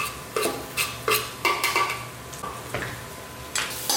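Garlic, nine cloves, stirred in a hot pan with repeated scraping clinks of a utensil against the metal and a soft sizzle underneath, the stirring strokes coming in quick uneven bursts close by.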